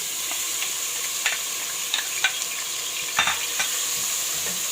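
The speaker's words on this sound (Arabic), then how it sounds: "انزل بالبصله كده يا دوبك اشوحها وتدبل كده بس." Onion sizzles steadily in hot oil, a constant bright hiss with occasional scraping stirs and light clinks, no talking.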